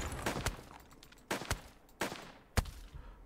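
Gunfire in the Western survival game Above Snakes: four sharp shots spaced roughly a second apart, each with a short echoing tail, loud and close against a faint background.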